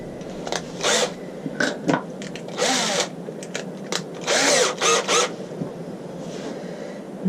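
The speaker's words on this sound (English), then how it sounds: "should just drill that in a little bit" A power drill bores through a resin casting mould in several short bursts of whirring, each a second or less, with pauses between them, close and fairly loud.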